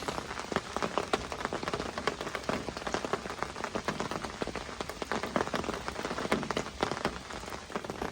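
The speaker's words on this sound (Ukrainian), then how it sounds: "тільки відзняли вам початок відео і знову спустили злива" Heavy summer downpour at a fishing spot, a dense, steady roar of rain hammering the surface with thick pattering throughout, close and loud, with no voices.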